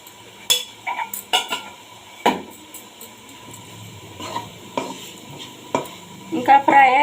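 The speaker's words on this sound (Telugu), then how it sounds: "ఇంకా ఫ్రై అయిపోయిందండి" Bitter gourd stir-frying in a pan with coconut, peanut and spice powder, giving repeated scraping and stirring strokes over a soft sizzle, close and fairly loud, with occasional knocks of the spatula against the pan.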